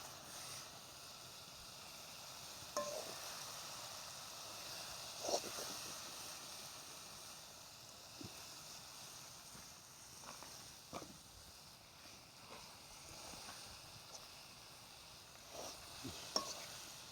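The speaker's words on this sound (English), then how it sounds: "Well, I'll give it a little stir." Ackee and saltfish sizzling softly in a pot while being stirred, a low steady fry with occasional scrape and clink sounds from the spoon, fairly quiet and with no talking.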